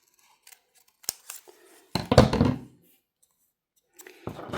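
Scissors snip around a paper shape in a craft class with greenery, several close, crisp cuts coming in short bursts between quiet pauses, with one longer crunchy stretch of cutting in the middle.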